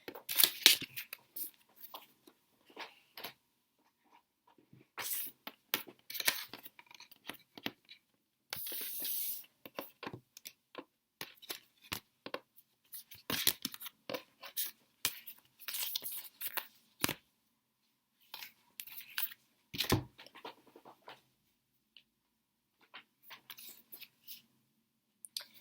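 Tarot cards rustle, slide and tap in quiet, intermittent bursts as a reader gathers the spread up close, with short scrapes and shuffling sounds spaced by silences.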